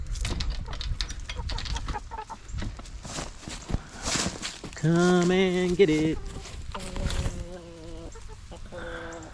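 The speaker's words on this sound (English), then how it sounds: "Let's see how these chickens respond." Backyard chickens cluck and squawk while being offered a treat, a lively run of nearby bird calls mixed with footsteps and a person's voice talking to them.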